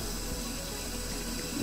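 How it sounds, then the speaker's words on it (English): Water runs steadily from a tap into a sink while a microfiber cloth is rinsed for cleaning a telescope mirror, a constant, fairly close broadband rush with no speech. "Give that a rinse out as well"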